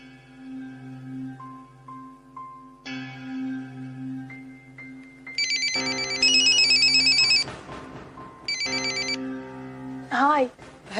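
A telephone rings during a call in a domestic scene, a bright repeating electronic ringtone in bursts with tones and music before it and a voice over it.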